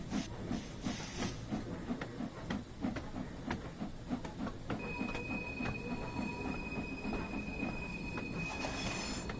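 A steam train shunts in Train Sim World 3 on the Peak Forest route, with rhythmic chuffing and wheel clatter, hissing steam and a long thin squeal from the wheels, close and continuous.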